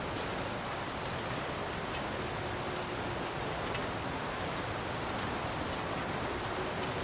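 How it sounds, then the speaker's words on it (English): A waterfall in The Long Dark roars as a steady, loud, dense rush of falling water, unbroken for the whole stretch with no other sounds. "It's very loud, though, the waterfall"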